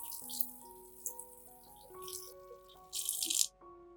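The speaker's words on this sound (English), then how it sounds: "wash the aloe vera under running water" Water runs softly over an aloe vera leaf being washed, with splashes and rattling, rising briefly louder near the end, beneath a gentle tonal melody playing in the background.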